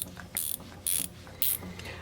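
Small Titan micro ratchet spinning a little 1/2-inch socket, three quick bursts of rapid pawl clicking separated by short pauses, close and crisp with no talk.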